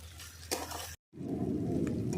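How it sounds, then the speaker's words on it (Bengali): Spice masala sautéed in oil in a pan for a potato curry (aloo dum): a brief dropout to silence, then a steady, close, hissing sizzle that fills the rest of the moment. "এক থেকে দেড় মিনিট আমি এইভাবে কষিয়ে নেবো"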